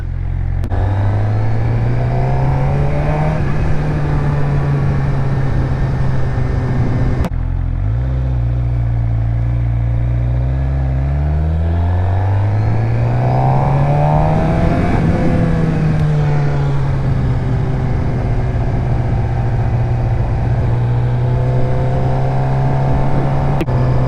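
A Suzuki GSX-R 600 motorcycle being ridden, its engine droning loud and close as revs rise and fall through gear changes, with a brief break in the pull partway through.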